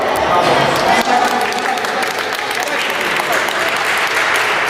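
Loud, steady crowd applause at a youth basketball tournament awards ceremony, dense continuous clapping close by with faint voices mixed in.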